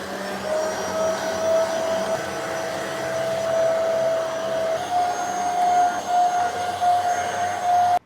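A V30 Pro vacuum cleaner on carpet whirs steadily and loudly with a high motor whine, running continuously without pause.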